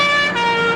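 A recorded police siren played from a tape, a steady tone with strong harmonic layers, loud and close throughout, wavering only slightly in pitch.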